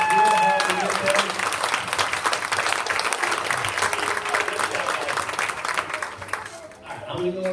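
Audience applause at an elementary school winter strings concert, dense steady clapping from a crowd throughout, with a few voices and scattered sounds mixed in toward the end.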